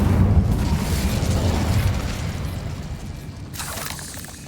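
An Incendio fire spell cast in Hogwarts Legacy, a deep rumbling burst that swells at the start and slowly fades, ending in a short brighter whoosh.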